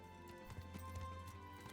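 Faint hoofbeats clip-clop in a quick uneven rhythm, a video game horse trotting or galloping at a distance over a quiet, hollow background.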